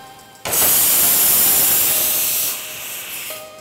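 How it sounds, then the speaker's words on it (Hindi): A pressure cooker cooking dal lets out a loud, sharp hissing whistle that bursts in suddenly, holds for about two seconds, then fades into a softer steam hiss. "कितनी सीटियां हो गई, कोई गिन रहा है?"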